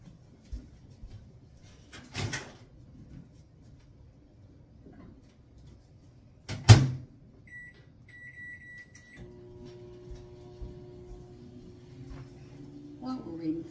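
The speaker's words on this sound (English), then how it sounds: "we'll microwave it for about 20 minutes" A microwave oven with a multi-purpose steamer inside starts with a sharp click and thud, followed by a low steady hum that continues after a brief beep, in an otherwise quiet kitchen.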